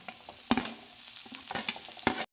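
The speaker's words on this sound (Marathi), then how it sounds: "हे लसूण आणि हा कांदा, हे जरा भाजून घ्यायचं थोडं" Ginger, garlic and onion roast in a pan, giving a steady close sizzle broken by a few sharp spoon-against-pan knocks. No one speaks.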